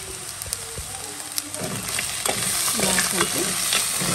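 Frying urad dal vadiyalu added to a curry and stirred in a pan, starting with a few clinks of a spoon and building into loud, continuous sizzling with scraping stir strokes.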